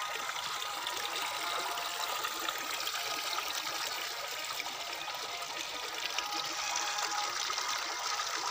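Water runs steadily through a farm channel, a broad continuous rushing and trickling wash that holds even throughout, close and fairly loud with no talk over it.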